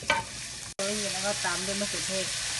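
Garlic and vegetables stir-frying in a pan for a sweet and sour vegetable dish, a steady close sizzle briefly cut off and resuming, with faint tonal sounds and murmured voices over it.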